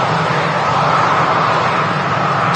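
A Ryanair airliner arriving from Murcia touches down at Manchester Airport. A loud, steady, broad jet roar holds at close range for the whole stretch.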